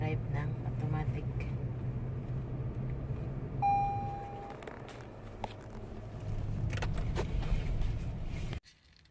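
An automatic transmission car rolls forward after being shifted into drive, a steady low engine and road rumble inside the cabin with a brief electronic beep partway through, cut off abruptly near the end.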